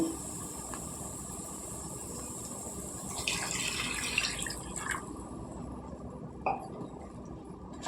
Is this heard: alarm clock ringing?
no